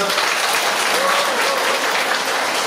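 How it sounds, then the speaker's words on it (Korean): An audience applauding to welcome a priest at a Legion of Mary education session in a Korean Catholic parish; thick, loud, uninterrupted clapping from a packed room, close and even throughout the few seconds. "박수로 환영해주시기 바랍니다."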